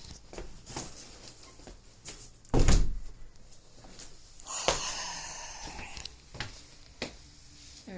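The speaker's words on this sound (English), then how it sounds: "There's the door closed." A house door swings shut with a solid thunk, followed by a few lighter knocks and clatters from the latch and frame, close by in a quiet indoor room with no talking.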